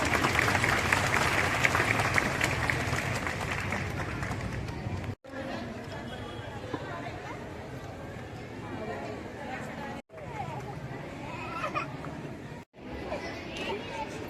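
An audience claps in a hall: steady, dense applause over crowd chatter and general noise, continuing through several brief breaks.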